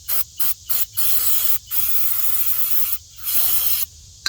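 Short hissing bursts of spray cleaner hit a dried-up, greasy Honda CR-V brake part, several quick puffs followed by longer blasts, close and loud with no talking.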